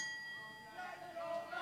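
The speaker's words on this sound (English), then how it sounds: "The bell sounds, and here we go." A wrestling ring bell rings to start a match at a live wrestling event, a bright sustained ding that fades under rising crowd noise.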